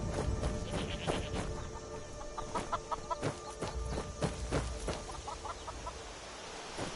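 Chickens from the video game Skyrim cluck in a steady series of short, close calls alongside a faint background hum, with no one speaking.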